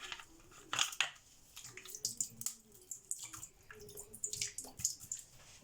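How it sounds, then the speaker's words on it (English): Chicken meat is washed with lemon juice and water in a bowl, with splashing, dripping and sloshing in irregular bursts close by, fairly quiet, with no speech. "Here I'm going to wash it with some lemon juice."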